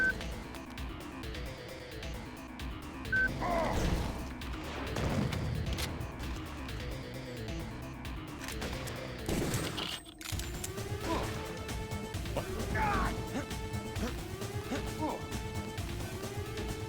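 Gunfire aimed at the player in the video game Deus Ex: sharp crashing shots and impacts scattered through the scene, over steady game ambience with repeated electronic tones in the latter half.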